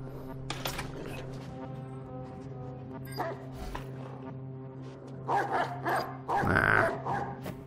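A dog barks in Watch Dogs 2, repeated short yips and woofs over steady game music and ambience, with louder bursts near the end.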